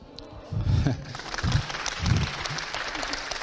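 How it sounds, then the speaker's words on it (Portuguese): An audience at a Portuguese-language church talk applauding, a dense steady clapping that swells in and carries on without a break. "Ok, você aplaudiu"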